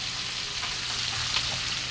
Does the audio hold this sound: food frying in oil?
yes